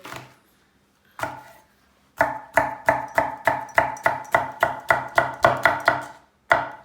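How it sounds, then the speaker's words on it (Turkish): Knife chopping skin-on tomatoes on a cutting board: two single cuts, then a steady run of about a dozen close, crisp rhythmic chops, ending with one final stroke. "Domatesleri ben kabuklu doğruyorum."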